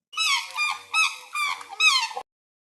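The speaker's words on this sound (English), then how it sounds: "Swan." A swan calling in a bird-sounds learning cartoon: several loud, close honking calls in quick succession, nasal and trumpet-like, with short gaps between them and nothing else around.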